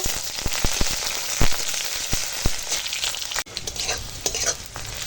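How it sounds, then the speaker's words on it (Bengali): Onions tossed into hot oil in a wok, seasoned with dried red chilli, sizzle loudly and close, with several sharp crackles early on and a steady frying hiss afterward. "এবার দিয়ে দেবো পেঁয়াজ পেঁয়াজটা একটু ভেজে নেব"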